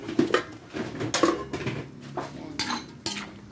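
A utensil stirs and scrapes through pancit guisado with cabbage in a pan, giving repeated close metallic clinks and clatters in an uneven rhythm, with no voices.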